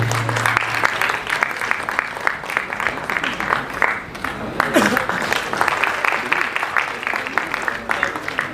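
Steady audience applause fills an awards ceremony hall, dense continuous clapping from a large crowd with a voice briefly heard over it.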